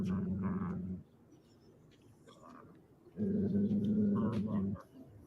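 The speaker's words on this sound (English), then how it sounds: "I like how he's growling." A dog growls in two low, rumbling bursts, the first short and the second longer, with a quiet gap between them, close by and loud, with faint background activity.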